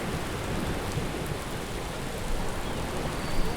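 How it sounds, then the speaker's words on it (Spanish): Heavy rain during a morning thunderstorm near a river, a dense, steady hiss of downpour with a low rumble underneath, unbroken and fairly loud throughout, no voices. "Es la mañana de un viernes con tormenta."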